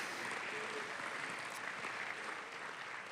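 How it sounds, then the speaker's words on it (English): Audience applause at an evening event honoring a colleague, a dense, even wash of clapping from a crowd that holds steady at a moderate distance throughout. "Peter, give yourself a round of applause."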